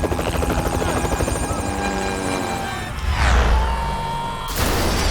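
Loud, close firefighting helicopter rotor and engine roar as the helicopter is engulfed by flames, with a sudden whoosh and burst partway through.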